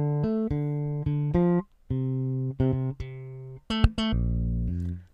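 A synthesized ghost-slap bass from a keyboard plays a short rhythmic phrase of punchy, percussive, struck-sounding notes with brief gaps between them, ending on a sustained low note.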